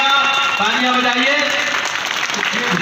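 An outdoor college event crowd claps after a flag hoisting at a fair, the applause loud and continuous throughout with voices and a singing tone mixed in.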